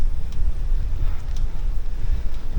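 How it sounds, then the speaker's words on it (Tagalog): Strong wind near Mount Arayat buffets the microphone with a constant low roaring rumble, gusting unevenly throughout with no other clear sounds. "Ay, lakas yung hangin, no?"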